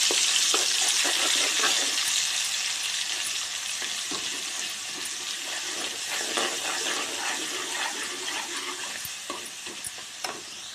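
Ginger fries in a pan for a murrel fish pickle, a loud, continuous crackling sizzle broken by the scrape and click of a spoon stirring, easing slightly toward the end, with no voices.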